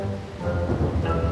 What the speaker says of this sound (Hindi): बारिश तेज हो गई।